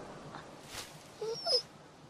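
A dog in The Walking Dead video game gives a couple of short, faint whimpers and yips against a quiet background, with a brief soft rustle just before.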